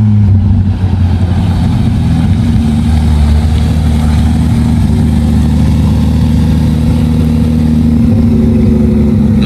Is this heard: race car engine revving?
yes